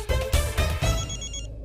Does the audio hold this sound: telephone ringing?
yes